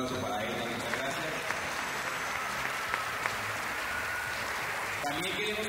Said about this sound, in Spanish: Un aplauso para ella, muchas gracias.